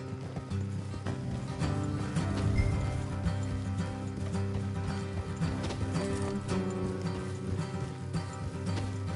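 Horses trot in the video game Red Dead Redemption 2, a steady clip-clop of hooves running throughout under dense game ambience and music.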